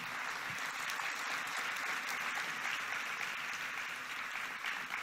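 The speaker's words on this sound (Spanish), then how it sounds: "Dele un aplauso al Señor." A church congregation applauds during a sermon, sustained dense clapping from many hands filling the room steadily for several seconds with no break.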